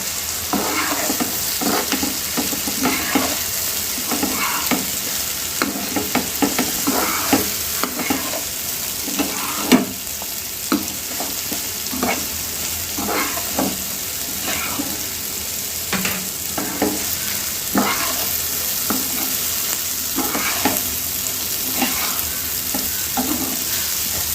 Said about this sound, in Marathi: मिक्स शेव सुद्धा आपण चांगली तेलामध्ये फ्राय करून घेऊया